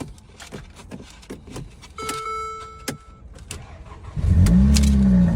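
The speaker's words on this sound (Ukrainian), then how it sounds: "можу зробити ставку що тут зараз буде якийсь адський вихлоп" Clicks and a brief electronic chime inside a Mercedes CLA 45 AMG, then the engine starts up with a loud, deep exhaust rumble.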